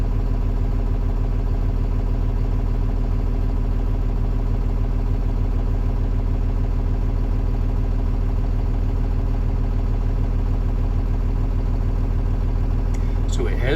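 A bus engine idles steadily while its air compressor charges the air brake system to 100 psi. It gives a continuous, even low rumble that runs the whole time with no breaks.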